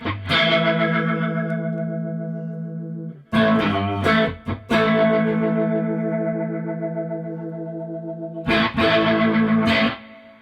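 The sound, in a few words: Strymon Lex V2 rotary speaker effect pedal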